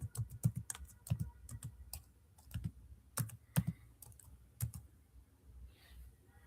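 Code is typed on a computer keyboard in short irregular bursts of crisp clicking keystrokes, with brief pauses between them and no talk.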